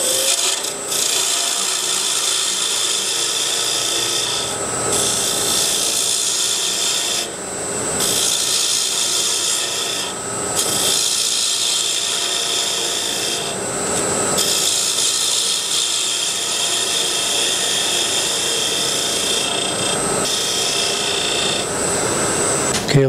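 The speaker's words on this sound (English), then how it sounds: "I'm turning right at 1800 RPM." A box elder wood lid spins on a lathe at 1800 RPM as a turning tool cuts it, making a loud, continuous rasping scrape up close, broken by a few brief pauses as the tool lifts.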